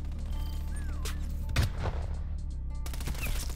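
Gunfire in Call of Duty Black Ops Cold War: a dense burst of shots with a heavy boom midway, then further rapid fire, over a constant game soundscape.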